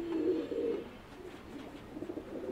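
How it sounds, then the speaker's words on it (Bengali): Many fancy pigeons coo inside a loft, soft rolling burbles repeating close by against a quiet background, with no voices. "এই যে দেখতেই পাচ্ছেন মাশাআল্লাহ অনেক অনেক কবুতর"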